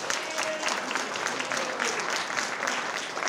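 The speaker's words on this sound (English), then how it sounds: "let's give Council Maria Tavares a round of applause for hosting this meeting." Applause fills a ward community meeting, many hands clapping at once in a steady, moderately loud wash that continues without a break, with no speech over it.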